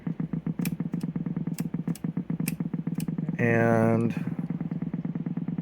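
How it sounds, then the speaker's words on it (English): An old Philco Tombstone radio with an electrical short sputters with rapid, rhythmic crackling pulses, briefly jumping to a loud buzzing whine before the pulsing resumes; a voice speaks one brief word. "Now that is the sound of a short somewhere."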